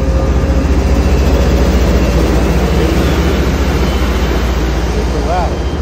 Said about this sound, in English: We've got a commuter rail train right here. That'll be leaving any second.